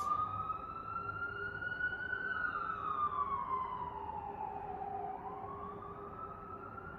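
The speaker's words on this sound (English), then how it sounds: "Sorry for the beautiful siren sound playing outside." A siren wails steadily outside, its pitch rising and falling in a slow sweep, fairly distant and continuous throughout.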